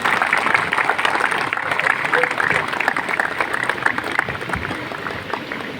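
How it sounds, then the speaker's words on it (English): A crowd at a football tournament closing ceremony gives a dense, sustained round of applause for the referee teams, steady and close throughout with faint voices mixed in. "big round of applause for my referee teams"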